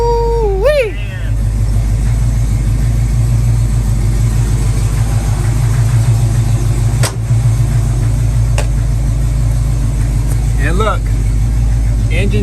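An old car engine idles steadily with a deep, continuous rumble, while people talk loosely over it and a dog howls briefly at the start and again near the end.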